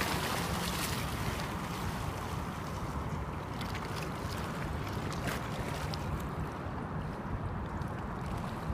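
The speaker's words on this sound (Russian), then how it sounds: "Ух, какие тут волны." Waves wash against the shore at the water's edge, a steady, dense rush of surf mixed with wind buffeting the microphone, continuous and fairly loud with no talking.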